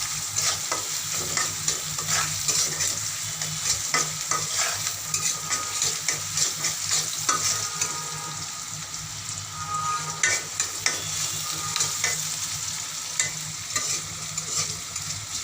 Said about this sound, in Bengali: এখন আমি কিছুক্ষণ নাড়াচাড়া করে পেঁয়াজটা লাল করে নেব